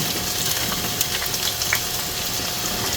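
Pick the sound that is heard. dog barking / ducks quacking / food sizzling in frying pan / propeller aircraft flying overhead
food sizzling in frying pan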